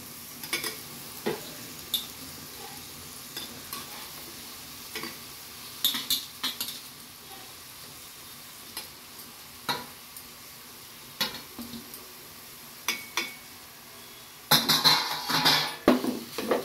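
Baby shark bhurji is stirred in a pan with fried onions. A faint, steady sizzle sits under repeated clinks and scrapes of a spoon against metal, and a louder burst of stirring comes near the end.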